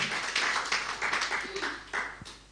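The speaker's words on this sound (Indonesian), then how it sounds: "Tepuk tangan bagi Tuhan, saudara." A small church congregation applauding, scattered claps rising and falling in uneven bursts for a couple of seconds, moderately close.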